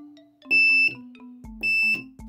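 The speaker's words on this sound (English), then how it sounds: "I've also learned how to use buzzer." A buzzer wired to a Raspberry Pi sounds two sharp, piercing electronic beeps in quick succession, each about a third of a second long, over a faint steady background hum.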